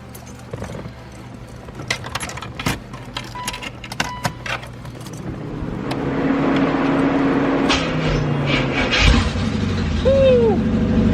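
A 1985 C4 Corvette with open headers, first a jangle of keys and clicks, then the engine cranking and firing into a loud, rough idle with rising revs, close by.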